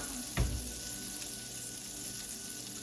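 Bologna frying in a pan makes a soft, steady sizzle near the mic, with one brief thump early on and no voices.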